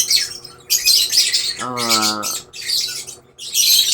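African birds in a crowded aviary squawk loudly in close, repeated harsh bursts, with one rasping nasal call in the middle standing out from the chatter.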